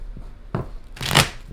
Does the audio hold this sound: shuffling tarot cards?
yes